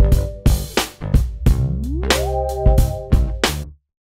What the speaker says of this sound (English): So I've made this pretty simple beat right here.